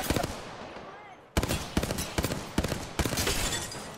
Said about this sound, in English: they're shooting at somebody behind me